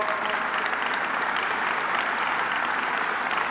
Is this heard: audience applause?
yes